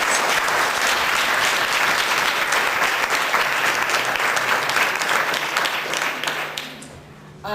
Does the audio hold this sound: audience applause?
yes